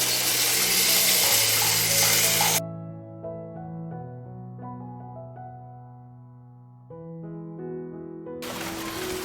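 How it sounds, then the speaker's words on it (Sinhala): Water poured from a bowl into a clay pot of fish curry gives a loud, rushing splash at the start, then stops while soft melodic music plays, and briefly resumes near the end. "මාළු තිබුණ භාජනයේටම වතුර අරන් මාළු හට්ටියට දැන් වතුර වක් කරනවා."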